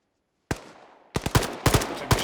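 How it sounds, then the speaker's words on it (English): Close, sharp gunshots crack in the military shooter Arma 3: a single shot, a pause, then several quick bursts of fire. "Taking shots at Corporal Bay."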